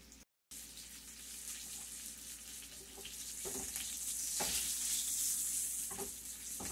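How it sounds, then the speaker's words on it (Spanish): Breaded tilapia fillets fry in hot oil with a steady, fairly quiet sizzle, brief clicks of stirring or turning over the top, no voices. "Así voy a seguir friendo y para ahorita que termine de freír les voy a mostrar."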